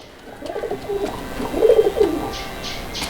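Pigeons, a mated pair, coo close by in soft, throaty murmurs that rise and fall, with a few faint chirps at the end.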